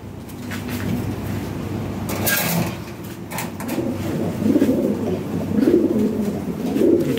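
Lahori pigeons coo repeatedly in a loft, their low, rolling calls growing fuller and more frequent toward the end, with a few clatters and scrapes mixed in.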